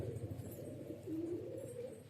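Pigeons coo softly and continuously at close range, a low rolling murmur with one clearer drawn-out coo in the middle, set against faint background hum.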